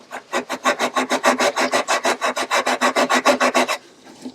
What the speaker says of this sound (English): first of all we'll just wire brush it down a bit